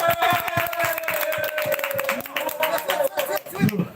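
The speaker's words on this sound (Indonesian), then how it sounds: "Tepuk tangan dulu buat Kecot." An audience at a casual live-streamed talk claps for the Ketapel Condet slingshot community, a patter of hand claps mixed with crowd chatter and a sustained tone running beneath.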